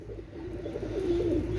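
Pakistani pigeons in a loft, including a red-necked pair, give a soft, low coo over a steady background hum, faint and brief.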